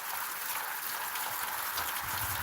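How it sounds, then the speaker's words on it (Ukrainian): Rain falling outdoors in a garden: a steady, dense hiss of drops pattering on surfaces, continuous and fairly close, with no voices. "І пішов дощик"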